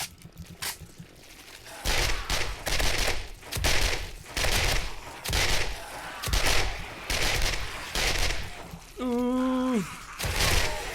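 Gunfire from a weapon in the game 7 Days to Die, fired hip-style in a series of loud, close bursts separated by short pauses.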